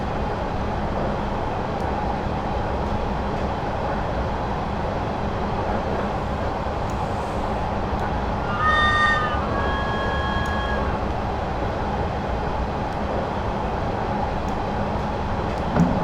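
A JT S8 Underground Stock train running in Train Simulator 2019, a steady rumbling roll of wheels and motors, with a brief tonal whine or squeal near the middle.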